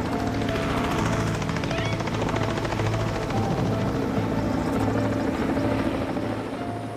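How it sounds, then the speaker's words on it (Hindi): A helicopter hovers low over a frightened baby rhino in open African bush, its rotor thudding loud and close in a continuous rhythmic chop with a steady engine whine. "हेलीकॉप्टर उसी के ऊपर मंडरा रहा है"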